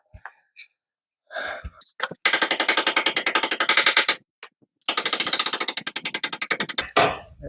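Metal bolt being tapped into an outboard mount while fitting a Mercury Verado, with two long runs of rapid, evenly spaced light taps close by, separated by short pauses and a few isolated knocks.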